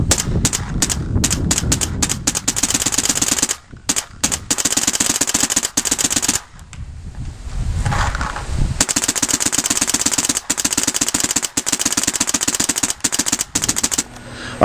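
WGP Autococker paintball marker with a WGP Domination tank firing rapid strings of sharp, loud pops outdoors, with short pauses between bursts and a break in the middle.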